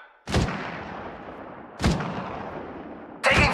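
Gunfire in Apex Legends Mobile: three loud, sharp booming shots spaced about a second and a half apart, each with a long rumbling decay.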